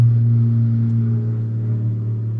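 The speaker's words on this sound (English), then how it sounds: "We got a plane going over." An airplane passes overhead as a steady, low droning rumble that fades slightly over the moment, with no voices.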